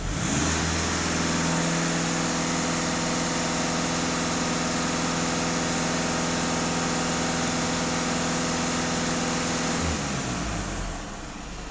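A Volkswagen Passat 2.0 TDI diesel engine is held at raised revs during diagnostics. It gives a loud, steady, close drone with constant pitch, then drops away sharply near the end.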